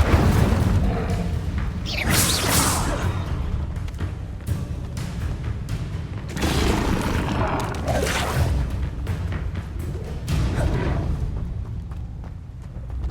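Incendio fire spell cast in the Hogwarts video game, heard as repeated fiery whooshes and booming bursts over continuous game sound, with dense layered effects throughout.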